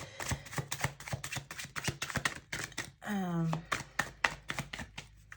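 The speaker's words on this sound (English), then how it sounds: "Let me just shuffle over here." Tarot cards being shuffled by hand, a rapid run of crisp riffling clicks close up, broken once by a brief voiced sound midway before the shuffling resumes.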